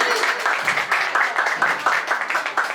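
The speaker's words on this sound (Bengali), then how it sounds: "বিজয় পেয়েছে, তাকে সবাই একটা জোরে হাততালি।" A small crowd claps for a game winner, giving about three seconds of brisk, uneven applause with rapid overlapping hand claps close by.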